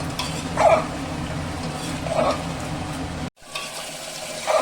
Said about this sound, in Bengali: মাংসটা আমি খুব ভালো করে কষাচ্ছি